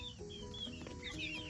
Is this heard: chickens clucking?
yes